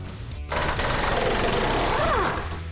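Impact wrench driving K-member bolts on a 1968 Plymouth GTX in a garage, a loud rapid hammering burst lasting about two seconds after a short pause, then dropping away.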